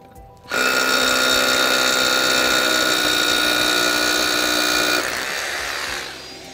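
Milwaukee rotary hammer drilling with a silica dust extraction vacuum starts abruptly as a loud whining, buzzing drone, then stops while the vacuum keeps running briefly and winds down.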